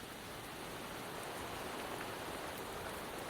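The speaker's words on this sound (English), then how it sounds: "the rain won't last much longer" Steady rain falling without pause in the video game Wuthering Waves, a dense even hiss with no voices or other sounds.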